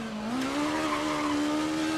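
A rally car in the Dirt 4 racing game with a transmission problem holds a steady, strained engine note that rises slightly in pitch and carries a gritty, tire-scrabbling edge.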